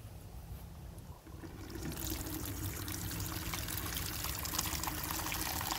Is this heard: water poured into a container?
yes